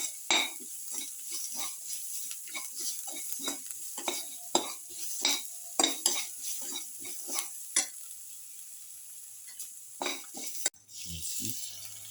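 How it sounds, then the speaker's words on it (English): Cumin, carrot and tomato rice being sautéed and stirred in a pan, with repeated close scraping strokes of a utensil and light sizzling, ending in a brief clatter. "Thoroughly sauteing this."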